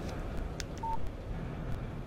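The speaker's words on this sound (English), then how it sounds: "Text message from Barry" A short phone text message alert tone in the video game Alan Wake: a single brief electronic beep sounding once over a steady low background rumble, with no talking.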